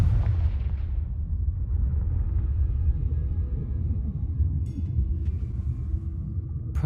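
A Confringo fire spell in the game Hogwarts Legacy explodes with a heavy booming blast that dies into a sustained low rumble, with a couple of faint crackles near the end.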